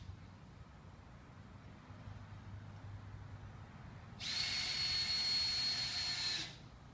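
A power drill drives a screw into a drywall ceiling, one loud high whine lasting about two seconds after a quiet stretch.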